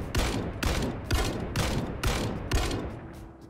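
Rifle fire with a recoil pad attached in Project Zomboid: seven loud, sharp shots in an even, steady rhythm about half a second apart, each with a short echoing tail.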